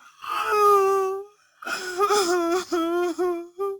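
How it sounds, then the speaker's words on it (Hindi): A young child sobs and wails in drawn-out, tonal cries, one long cry then a pause and a series of broken, hiccuping sobs, close and loud with nothing else beneath. "चलते चलते उन्होंने किसी के रोने की आवाज सुनी।"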